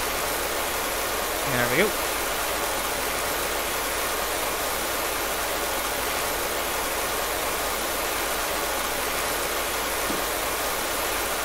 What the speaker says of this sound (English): Sound of all that water flowing.